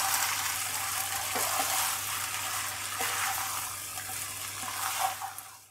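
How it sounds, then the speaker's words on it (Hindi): Hot sriracha sauce is stirred into chicken noodles in a hot pan, giving a constant bright sizzle with a few soft scraping taps from the stirring and no voices. "और अब इसमें हम डालेंगे शंग्रीला की हॉट सिराचा सॉस,"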